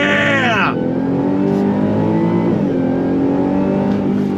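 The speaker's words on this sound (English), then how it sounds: "we're gonna go on throttle real quick" A Ford F-150 Raptor R truck engine roars up under full throttle, its pitch climbing fast, then settling into a loud, sustained growl close by with a brief gear-change dip midway.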